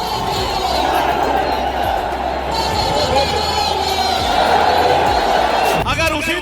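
A large rally crowd gathered for Chandrashekhar Azad in Delhi gives off a dense, steady roar of voices and cheering that stays loud throughout, with a few sharp knocks near the end.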